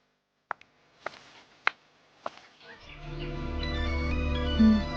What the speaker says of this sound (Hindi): परी का फोन है।